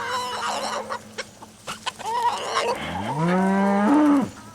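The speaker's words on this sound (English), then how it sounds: "You see the chickens are going crazy over here this morning." Agitated farmyard chickens squawking and clucking in the morning, a busy cluster of close calls ending in one long, loud, rising squawk.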